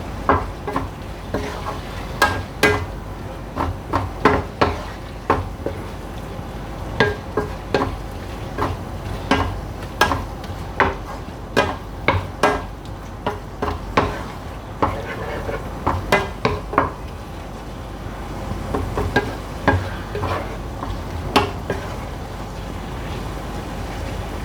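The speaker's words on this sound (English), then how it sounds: "And the tomato puree and cook for another few minutes. Stir it constantly." Beef cooked with tomato puree in a pan, stirred constantly: repeated scraping clinks of a utensil against the pan over a soft steady sizzle, close and irregular in rhythm.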